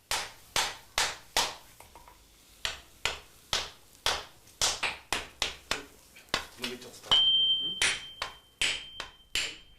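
A swordsmith's hammer strikes tamahagane steel in a steady run of sharp, ringing metallic blows at close range, about two per second, with a brief high ringing tone partway through and no talking.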